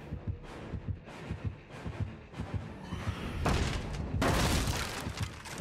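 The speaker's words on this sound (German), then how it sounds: "Herzschlag ist echt übelst laut" Deep pounding heartbeat thumps from Dead by Daylight repeat steadily at first, then dense loud crashing and rumbling game noise swells and buries them toward the end.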